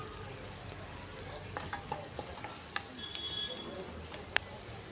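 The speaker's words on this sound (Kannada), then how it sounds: "ಹಸಿಮೆಣ್ಸು ಹಾಕಿ ಸ್ವಲ್ಪ ಫ್ರೈ ಮಾಡ್ಕೊಳ್ಳೋಣ" Green chillies frying in a pan for uppittu, with curry leaves in the oil, make a low, steady sizzle, and a few sharp clicks of stirring come through now and then.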